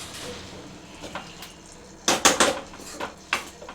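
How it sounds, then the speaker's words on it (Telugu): Spoon stirring rice flour uppudu pindi with oil in a pan, a few close metallic scrapes and clinks, clustered in a short burst after a quieter stretch. "ఆయిల్ పోసుకొని మంచిగా కలుపుకొని ఒకసారి"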